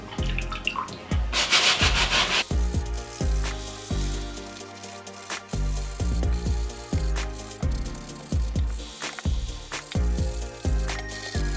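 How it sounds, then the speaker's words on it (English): An all-purpose brush scrubs the uppers of muddy sneakers in quick, rhythmic strokes, a close, bristly scraping repeated many times with a few wetter splashy bursts. "I'm using the all-purpose brush and I'm just gonna use this to scrub the uppers"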